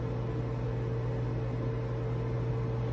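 A microwave oven runs steadily while heating a bar of Ivory soap, giving a continuous close hum with a low electrical drone and fan noise, no voices.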